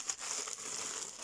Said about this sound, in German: Jetzt haben wir hier noch eine kleine Tüte.